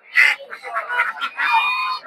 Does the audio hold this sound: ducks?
yes